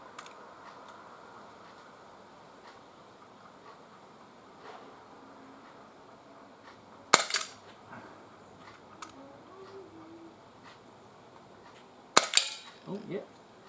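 Two sharp, loud CO2-powered shots from a Tolmar ISSC M22 BB pistol, fired several seconds apart and each followed by a brief clatter, over quiet outdoor background.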